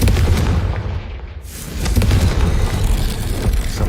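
A Confringo fire spell blast in the Hogwarts Legacy video game erupts as a loud, dense whooshing roar that swells and rumbles on for several seconds with no voices over it.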